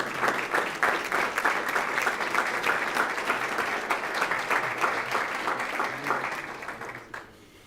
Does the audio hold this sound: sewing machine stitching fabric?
no